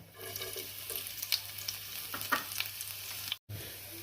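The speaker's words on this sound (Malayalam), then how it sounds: "ഇനി നമുക്കതിലേക്ക് ചെറിയ ഉള്ളി അരിഞ്ഞ് വെച്ചത് ഇട്ട് കൊടുക്കാം." Chopped small onions frying in coconut oil in a pan for a Kerala mushroom stew, a steady close sizzle with light stirring scrapes, then a brief cut near the end.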